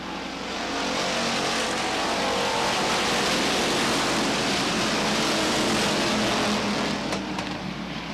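Stock race cars racing at Beech Ridge Motor Speedway, a dense, steady roar of several engines at full throttle that swells in after the first second and holds loud throughout.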